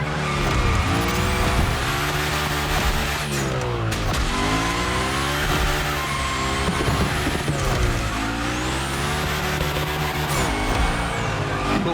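A Hoonigan gymkhana car in The Crew Motorfest slides with loud, sustained tire squeal over a revving engine that rises and falls in repeated sweeps, close and continuous.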